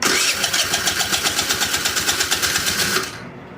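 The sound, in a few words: GY6 scooter engine cranking with starter, trying to start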